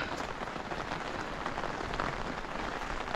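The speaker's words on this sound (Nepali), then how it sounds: "रातभरि वर्षा भएको छ, हिजोदेखि 3 दिन भयो वर्षा बाहिर निस्कनै दिएको छैन" Heavy, steady monsoon-style downpour after a night of continuous rain falls in a village neighbourhood, a dense, even hiss of drops on surfaces with no breaks and no voices.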